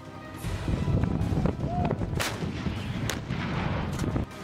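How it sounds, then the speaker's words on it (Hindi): Firing of a 155 mm howitzer artillery gun, a loud sustained rumbling blast with sharp cracks, heavy low-frequency energy throughout, with faint voices in the background. "इसमें सबसे अहम है ये 155 mm हावित्जर आर्टिलरी गन"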